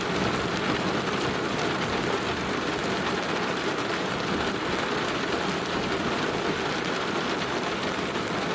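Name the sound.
thunderstorm with rain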